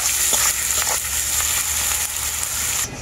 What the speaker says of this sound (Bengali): এরপর আমি পেঁয়াজটাকে খুব ভালো করে ভেজে নেব।